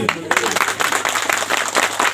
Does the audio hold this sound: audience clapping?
yes